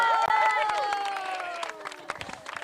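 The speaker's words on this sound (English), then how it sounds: "Can we have a big round of applause for our Varraja here" Wedding guests break into scattered clapping and cheering, sharp claps ringing out alongside voices and tonal sound, fading and thinning toward the end.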